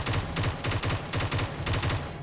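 Gunfire in the PUBG battle royale game: rapid bursts of shots repeat in a steady rhythm for about two seconds, loud and close, with no talking.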